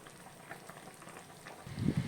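Semiya vermicelli simmering in a pot on a stove, with a soft steady bubbling and crackle that grows louder near the end.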